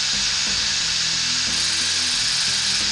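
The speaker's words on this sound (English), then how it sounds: "I'm going to start the lathe" A woodturning lathe runs steadily, turning a laminated sycamore and purple heart bowl, with a loud, constant whirring hum and faint tool contact noises, close up and without talk.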